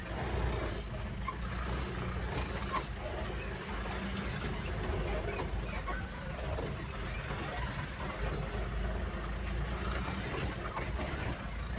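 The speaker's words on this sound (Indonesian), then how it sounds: "banyak kendaraan bermuatan saling bergantian" Loaded trucks pass one after another on a badly damaged road, giving a continuous heavy engine rumble and rattling with a faint hiss of air brakes, steady and close throughout.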